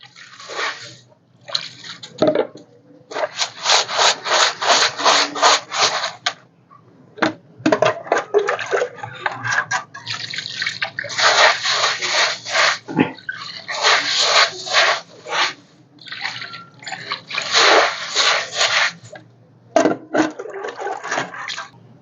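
Cinders for potting chrysanthemums being washed in water, with loud repeated bursts of splashing and sloshing separated by short pauses, close up throughout.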